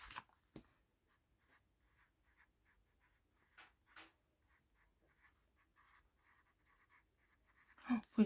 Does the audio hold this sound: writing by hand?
yes